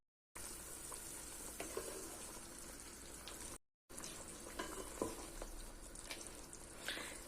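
Meat sizzling and crackling in a hot pan, a steady frying hiss with occasional pops, briefly cut off midway.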